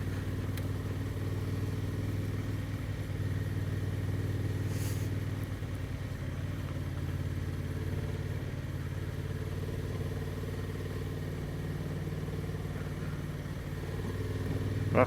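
A Honda Transalp 750 motorcycle rides down a slimy country lane, its engine a steady mid-pitched drone that holds at an even, moderate level throughout, with no talk.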